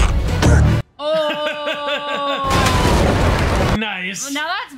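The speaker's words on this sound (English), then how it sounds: "That's cannon." Loud booming cannon fire from the One Piece live-action series thunders in bursts, with excited voices and laughter reacting between them.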